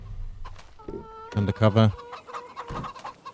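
Chickens clucking in the farming video game Farming Simulator 25, a run of close, loud clucks and squawks with a brief spoken word at the start.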